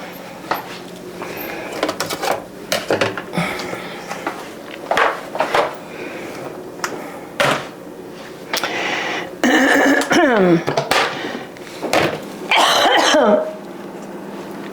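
Several short coughs and throat clears come amid kitchen clatter of dishes and drawers while baking keto buttermilk bread, scattered over the stretch, fairly close.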